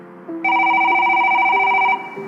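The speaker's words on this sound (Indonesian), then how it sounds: "Tak lama, ponselnya berdering." A mobile phone rings nearby with a bright electronic ringtone tone, sustained for a couple of seconds over a faint hum.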